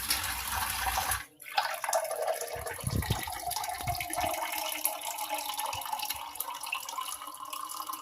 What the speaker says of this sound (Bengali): পরিমাণ মতো পানি দিয়ে নেব